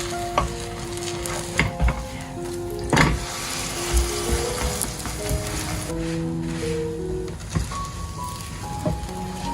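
A flipped glutinous rice cake with red bean filling keeps frying on low heat in a pan, a continuous gentle sizzle punctuated by occasional taps and scrapes of a utensil, heard close and alone.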